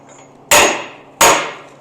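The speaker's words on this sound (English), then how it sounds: "Or use a bigger hammer." Two sharp hammer strikes on a metal buggy roll bar, each a loud clanging hit about three-quarters of a second apart with a short ringing decay, close by and alone.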